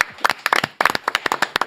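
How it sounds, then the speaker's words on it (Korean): Studio audience on a Korean talk show clapping to welcome a guest: a small group's sharp, close handclaps, loose and uneven in rhythm, over the short moment. "박수로 맞이합니다"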